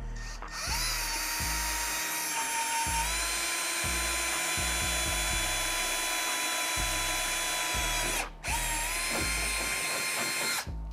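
A power drill whines steadily at high speed, close and loud, drilling a 3/16-inch rivet hole while installing a bumper on a Ski-Doo G4 snowmobile, cutting out briefly near the end before spinning up again.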